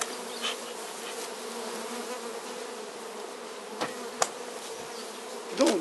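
Steady, dense droning hum of many honeybees swarming around a hive after smoking, continuous and close, with a few brief clicks and knocks near the end.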